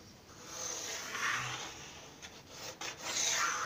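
A faint, close scratch of a marker dragged along wood furniture against a 90-degree square, with soft rubbing strokes over quiet background hiss.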